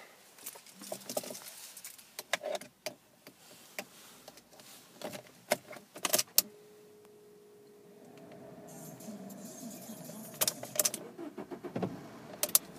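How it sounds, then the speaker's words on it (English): A blue Fiat 500 Lounge with an Abarth body kit starts up after several clicks and rattles, its small engine catching first time and settling into a low, steady idle close by, with no talking. "And if we get the car started up,"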